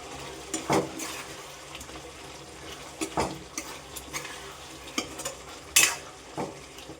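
Potatoes cooking in a covered pan are stirred with a few scraping, clattering strokes, each spaced out, over a low, steady sizzle.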